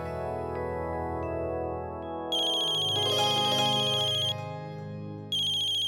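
A phone rings with a bright, electronic tone in bursts, starting after a stretch of soft background and repeating after a short pause.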